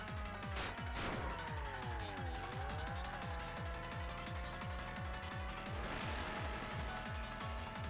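A race car driving in Spark the Electric Jester, with a steady engine drone that rises and falls in pitch as it steers, plus brief tire squeals over constant game music.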